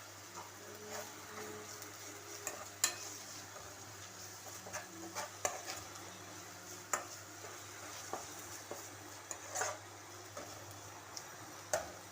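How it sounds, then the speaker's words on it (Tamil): Onions and ginger garlic paste fry softly in a pan, a faint low sizzle broken by the light clicks and scrapes of stirring. "இந்த அளவு வெங்காயம் நல்லா வதங்கின உடனே நம்ம இஞ்சி பூண்டு பேஸ்ட் போட்டுக்கலாம்"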